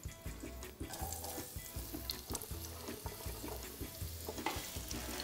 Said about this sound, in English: So at this point, I'm gonna go ahead and toss in the rest of my vegetables.